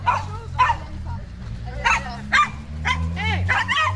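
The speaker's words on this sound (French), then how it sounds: "C'est le shih tzu qui attaque le berger australien." A small shih tzu barks and yips in quick, excited bursts, close by, attacking an Australian shepherd, over a low steady rumble, with whiny yelps mixed between the barks.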